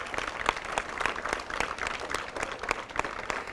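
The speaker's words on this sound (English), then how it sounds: "give yourselves a round of applause." Students applaud at an arts mural presentation, a steady patter of many hands clapping together in a room, moderately loud and continuous, with no one speaking over it.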